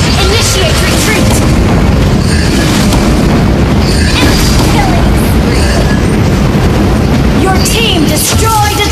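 Turret destroyed in the Mobile Legends video game, loud booming blasts under a dense, busy wash of battle effects that runs without a break.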